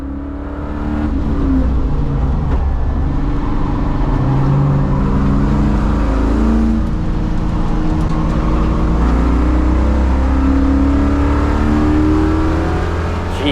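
A T56 Chevrolet Caprice at speed on the Autobahn Country Club race track, its engine roaring loud and steady throughout, with rising and falling revs as it charges down the course.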